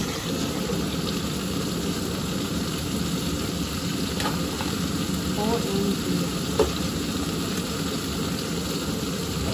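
Tuna with its sauce sizzling in a frying pan, a steady close crackle and hiss that runs evenly throughout, with a few faint clinks and scrapes near the middle.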